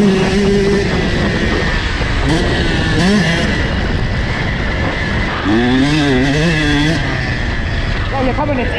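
Motocross motorcycle riding a deep sand track at Ajka, Hungary, engine droning steadily throughout and rising and falling in pitch through a long corner, with someone talking over it.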